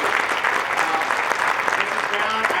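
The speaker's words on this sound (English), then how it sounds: "Your round of applause for sure." Audience applause fills a graduation ceremony for a Class of 2021 cohort, dense continuous clapping from a crowd with some voices mixed in underneath.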